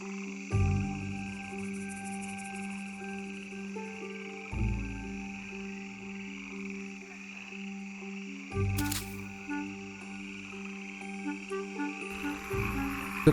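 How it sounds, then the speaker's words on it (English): Cross-barred tree frogs croak at nightfall in a canyon, with repeated low croak bursts every few seconds over a steady chorus of insects and other frogs, fairly faint and distant. "The cross-barred tree frog is unique to the canyon."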